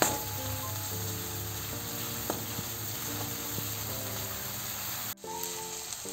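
Onion, green chilli and garlic frying over high heat for a restaurant-style chilli chicken, a steady close sizzle running throughout with occasional utensil clicks and a brief dip near the end.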